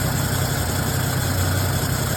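A repaired engine idles steadily with a low, even rumble and vibration and no belt squeal, running alone from start to finish.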